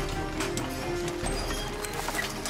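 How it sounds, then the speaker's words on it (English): Working horses on a logging road clop their hooves in an uneven, continuous patter under a busy outdoor din of rumble and clatter, moderately near. "the horses can get back to work."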